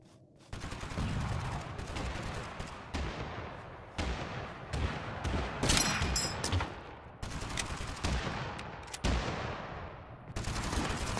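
Gunfire in the video game Totally Accurate Battlegrounds, repeated loud bursts of rapid shots separated by short gaps, punchy and close, with no talk over it.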